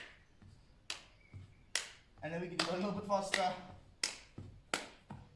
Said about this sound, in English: we clap under each opposite leg